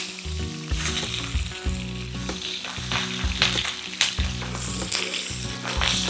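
Chopped onion sizzles and crackles loudly in a hot wok, with a dense steady hiss and intermittent stirring scrapes and bumps throughout, close by and without voices.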